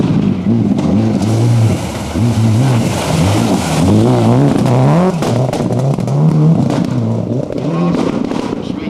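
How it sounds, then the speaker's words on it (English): A Castrol factory Toyota rally car accelerates hard off the start line at the Weston Park special stage of the 1993 RAC Rally, its engine revving loudly and rising through the gears, with an announcer speaking over it. "Mats Jonsson, third entry from the factory. Toyota team from Castrol."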